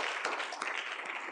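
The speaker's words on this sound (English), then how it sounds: "Can we give a round of applause to caregivers?" A conference audience at a health sector leaders' consortium applauds caregivers, producing dense, continuous clapping from many hands, moderately loud and steady throughout.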